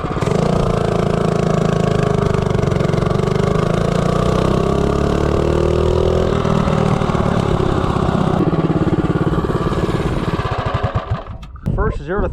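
A 212 Ghost small engine fitted with an ARC flywheel revs hard as a mini bike pulls from 0 to 30, a loud, rising buzzing roar held for about ten seconds before easing off near the end.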